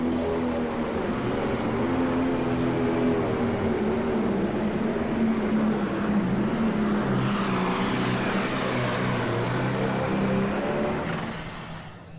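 A tractor engine at a tractor pull, running on single cut tires, roars loud and steady for about eleven seconds with a deep droning rumble, then fades slightly at the end.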